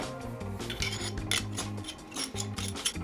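Metal rods are screwed by hand into a camera battery clamp, making quiet, close rasping and scraping from threads turning, with small metallic ticks.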